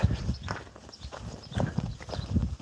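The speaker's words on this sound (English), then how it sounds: "here comes the donkeys." Donkeys walking past on a farm, hooves clip-clopping in an uneven, shuffling rhythm at moderate distance over low background rumble.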